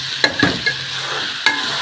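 Onion and meat sizzle in ghee while being stirred, giving a steady close frying hiss broken by a few sharp scrapes of the utensil against the pan.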